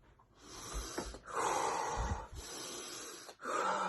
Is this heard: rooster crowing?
no